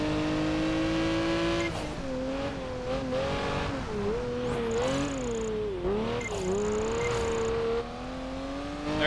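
Race cars driving in Project Gotham Racing 4: a steady, loud engine drone whose pitch rises and dips through gear changes and corners, with faint tire squeals and other cars nearby.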